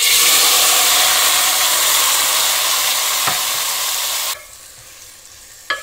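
Tomatoes frying in hot oil for a pickle give a loud, steady sizzle that suddenly drops to a quieter hiss, with a couple of sharp clinks from a utensil against the pan.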